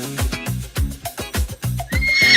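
A farm horse lets out a loud, close whinny, its voice rising and quavering near the end over a rhythmic, pulsing background.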